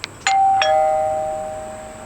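Tapo D225 video doorbell chime: two clear, close electronic ding tones in quick succession, the second ringing out and slowly fading in a quiet room.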